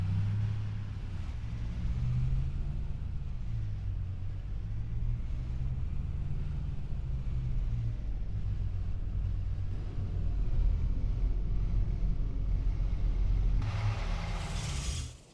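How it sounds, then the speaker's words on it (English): A truck engine in Farming Simulator 25 idles and drives in a steady low rumble for about fifteen seconds, its tone shifting slightly as it pulls into place, with no talk over it until it cuts off abruptly. "We'll pull the truck in right over here."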